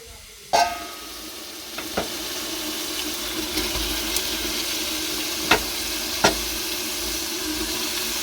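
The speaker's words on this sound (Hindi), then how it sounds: "फिर मटन और प्याज को एक साथ ही फ्राई करना है।" Steady sizzling of mutton and onions frying in a pan, with a few sharp clinks and scrapes of a utensil stirring now and then.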